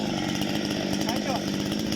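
A Parma BP-058 petrol chainsaw runs steadily while cutting, a loud, close buzzing drone with even pulsing. Someone talks briefly underneath it.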